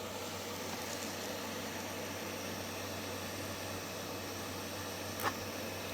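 A hot air rework station blows steadily while desoldering parts from a scrap DVD player, giving a soft, even hiss of airflow with a low hum underneath and one brief tick near the end.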